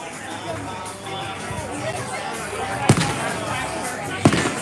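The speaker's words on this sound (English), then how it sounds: "They're doing the fireworks right now." Fireworks burst outdoors at night, two sharp booms a little over a second apart over a steady bed of crowd chatter and voices.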